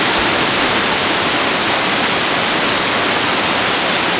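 A waterfall in the Brecon Beacons in Wales roars with a dense, steady rush of falling water, loud and close, unbroken throughout with no voices.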